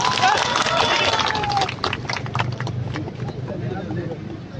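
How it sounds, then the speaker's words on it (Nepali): Crowd applause at a large outdoor protest rally in Naya Baneshwor, Kathmandu: a loud burst of many hands clapping that stays dense at first, then thins to looser, scattered claps while voices murmur underneath. "यहाँले सुन्नको लागि एकपटक जोरदार ताली अनुमति दिनुहोस्।"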